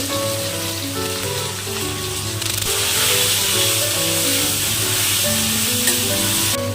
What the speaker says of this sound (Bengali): প্রথমে কোয়াশগুলো ভেজে নেব